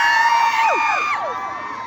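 Crowd at a political rally in Bayambang, Pangasinan cheering and shouting together, a steady loud wash of many voices with high whoops rising and falling across the whole stretch.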